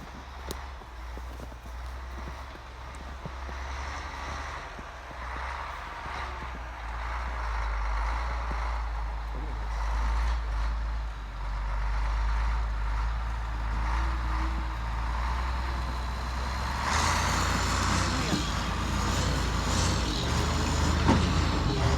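Truck engine rumbling low and steady while reversing and dumping large rocks onto a driveway, with clatter and scraping building toward the end; moderately distant and fairly quiet, with no talk.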